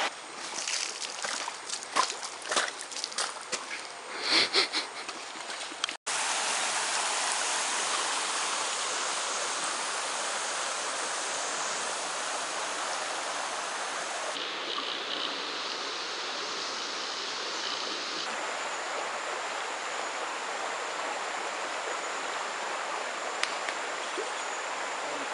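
A river flows on Costa Rica's Osa Peninsula with a steady, full rushing roar, constant and close, after a brief stretch of rustling and handling noise at the start.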